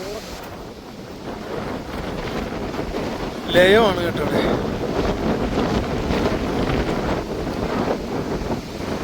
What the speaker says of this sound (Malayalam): ക്യാമറ കയ്യിൽ നിന്ന് പോകുന്ന അത്രക്ക് കട്ടിയിലാണ് കേട്ടോ, പവറിലാണ് കാറ്റ് വീശിക്കൊണ്ടിരിക്കുന്നത്